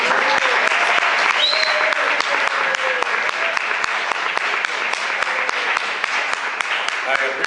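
An audience at a town meeting bursts into sustained applause, dense and loud throughout, with voices and a few shouts under the clapping.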